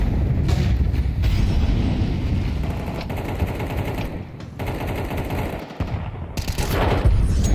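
Sustained automatic gunfire in a Counter-Strike match, loud and dense, with rapid bursts and overlapping shots filling the whole stretch as a site comes under attack, with no speech.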